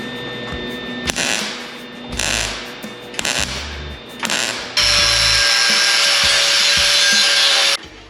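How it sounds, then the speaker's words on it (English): Tack welds are cut off the steel cab corner of a 1930 Dodge coupe being turned into a pickup, with several short, loud grinding bursts and then one long, sustained, harsh cut, all very close. "Now I'm going to cut the tacks off of this thing"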